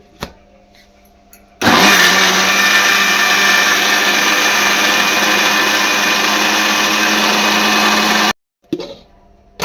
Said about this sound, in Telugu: ఈ విధంగా మిక్సీ పట్టేసుకుందాము